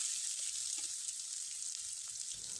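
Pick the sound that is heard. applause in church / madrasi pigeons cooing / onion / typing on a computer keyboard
onion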